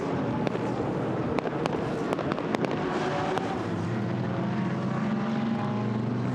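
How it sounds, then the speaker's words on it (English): Fireworks go off over the Le Castellet race track during a 1000 km GT endurance race, with sharp distant pops and crackles scattered over a constant roar of race cars. "There's that ever so slight distraction of the fireworks going off just to catch the corner of their eye."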